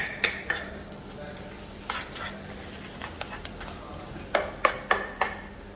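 Dried shrimp paste fries in oil in a hot pan, a steady sizzle under repeated scraping strokes of a spatula that come in quick clusters.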